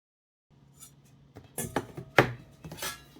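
Onions being diced with a knife on a cutting board for scratch-made baked beans: a run of close, irregular chopping strikes that grows louder, after a brief silent start.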